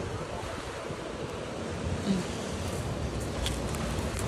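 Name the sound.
sea waves at the beach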